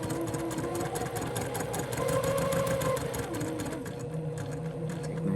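A sewing machine stitches quilt pieces with a steady, fast motor whir and a rapid needle chatter, running continuously and close up without talk.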